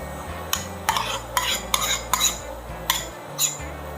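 Thick 30% cream being stirred into a blanquette de veau sauce in a pot, with a utensil scraping and clinking against the pan in about eight distinct strokes, close and clear, with no talking.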